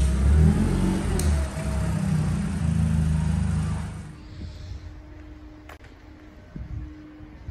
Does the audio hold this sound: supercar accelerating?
yes